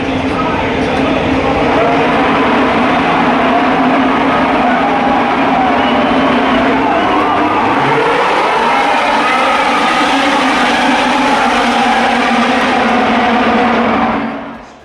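Formula 1 race cars on the start-finish straight at a Grand Prix, a loud continuous engine roar with a pitch sweep as cars pass, filling the whole stretch before cutting off.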